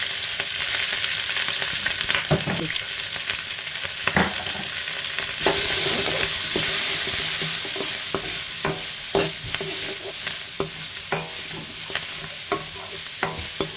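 Onions being stir-fried quickly in a pan for a beef and vegetable spaghetti stir-fry, with a constant loud sizzle punctuated by repeated spatula scrapes and taps against the pan, close and without voices.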